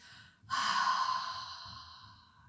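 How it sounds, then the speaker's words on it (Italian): A deep, complete yoga exhalation after a full inhale: one long, breathy rush of air that swells suddenly and slowly fades over two seconds, close and fairly soft, with no talking. "giù bene il respiro fino in fondo e fuori completamente il respiro."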